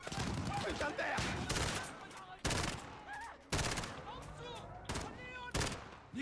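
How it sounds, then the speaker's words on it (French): Heavy gunfire from Call of Duty Modern Warfare, with loud rifle bursts and single shots cracking in rapid succession amid a tense combat din and faint radio chatter. "Les coups de feu, bien sûr."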